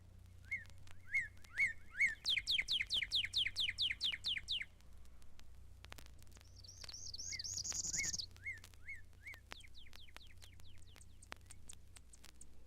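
Northern cardinal singing in a mountain lake bird sanctuary: clear, repeated whistled notes in quick series, then a rising run of slurred phrases and more spaced calls, fairly close against a quiet background.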